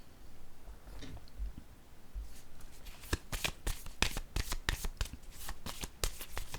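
Tarot cards being handled during a reading: after a quiet start comes a run of rapid, crisp papery snaps and flicks, close and fairly faint, like cards being shuffled and set down.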